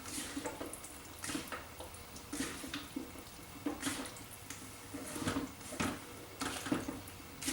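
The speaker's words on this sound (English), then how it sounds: "I'm going to give things a good stir to just get everything coated" Stir fry being stirred in a pan: soft, irregular scraping and swishing strokes repeating every second or so, fairly quiet and close, with no talk.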